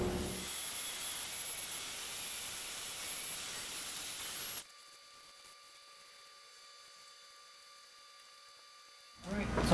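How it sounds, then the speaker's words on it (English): A Dremel 4300 rotary tool refines a carved wooden sunflower stem with a rough, gritty grinding buzz for several seconds. It then cuts to a faint steady hum before the noise returns briefly. "now I'm going to just refine this stem a little bit more with the Dremel."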